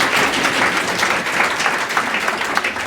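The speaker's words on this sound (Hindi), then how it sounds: "जोरदार तालियों से स्वागत कीजिए सर का" A crowd at a student award ceremony at a coaching institute applauds loudly to welcome a guest, a dense, continuous roar of many hands clapping with no break.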